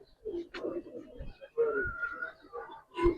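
Giribaz pigeons of an old breed coo in short, low bursts close by, mixed with talking voices from people handling the birds.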